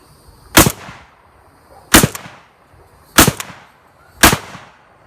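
Mossberg 930 JM Pro semi-automatic shotgun firing during a function test: four loud, sharp outdoor blasts spaced about a second apart, each trailing off in a short echoing decay, with no talk.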